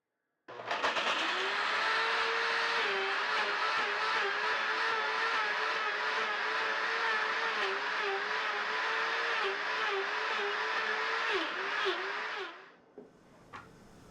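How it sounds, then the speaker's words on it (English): A Vitamix One blender, a lower-powered machine, blends a frozen dessert with a loud, steady high whir that holds for about twelve seconds with slight shifts in pitch, then cuts off abruptly, followed by a few faint clatters. "The same holds true even with the new Vitamix One, which is a lower powered machine."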